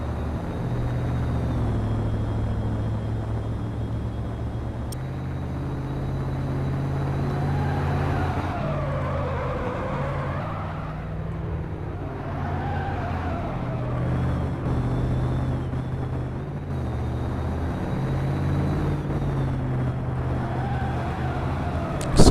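Race car engines on a track, a steady roar that rises and falls as cars approach and pass, with pitch sweeping up and down through the run.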